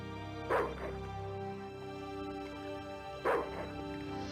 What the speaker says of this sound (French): Oui, gentil chien.